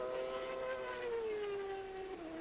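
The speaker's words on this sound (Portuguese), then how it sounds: "o motor falhou, um barulho estranho." A 1993 Formula One racing car engine misfires during Portuguese Grand Prix qualifying: a sustained engine tone drones and slowly falls in pitch, with a rough, wavering quality; no voices, steady loudness throughout.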